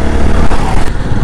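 Several motorcycles, among them a Suzuki Gixxer SF, ride along a foggy road near Keraniganj, giving a steady, close engine drone with broadband road rumble throughout.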